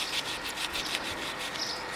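Grout is rubbed into a mosaic of small wooden pieces, making a continuous close, gritty scrubbing with faint rhythmic strokes and no pauses.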